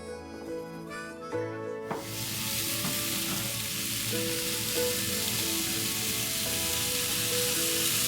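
Sausages cook on a bed of onions in beer, giving a loud, steady sizzle and fry that fills the clip after a brief tonal start, with faint clinks now and then.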